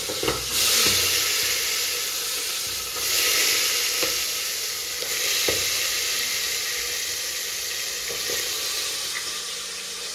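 Vegetable curry sizzles in a pan on a home stove, a loud continuous hiss that swells and eases in waves over ten seconds, with a few soft knocks of stirring.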